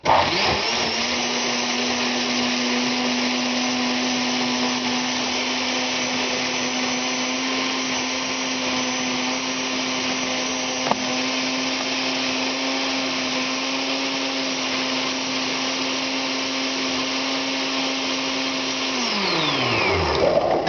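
A loud blender whirs steadily at a constant pitch for about twenty seconds, blending soaked raw soybeans, then the motor winds down as it switches off.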